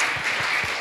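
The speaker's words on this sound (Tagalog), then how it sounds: "Sige po, palakpak tayo kay Lord." A church congregation claps together in worship, a dense burst of many hands ringing out loudly and evenly throughout.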